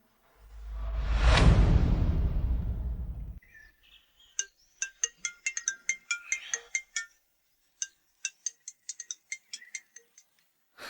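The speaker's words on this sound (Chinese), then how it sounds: "是什么风让江大少爷主动给我打电话？" A phone rings with an incoming call: after a loud whoosh, a bright electronic ringtone plays a quick, rhythmic pattern of chiming notes, clear and close.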